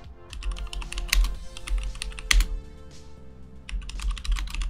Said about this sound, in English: Do you like my mechanical keyboard?